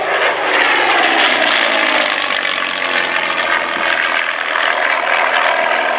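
A Yak-3 fighter with a plywood-skinned airframe passes at a military airshow, its piston engine and propeller giving a loud, sustained roar that holds steady throughout, with no voices over it.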